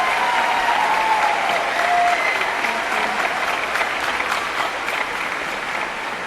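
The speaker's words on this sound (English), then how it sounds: "Please give them all a round of applause." At a high school choir festival concert, the audience gives a sustained round of applause. Many hands clap in a dense, even roar, with faint voices mixed in.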